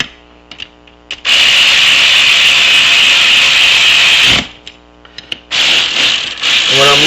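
A tool tightens bolts in a cross pattern on an aluminum crankcase of a Kymco Super 9 scooter, giving close, loud, sustained ratcheting and grinding bursts broken by short pauses and small clicks.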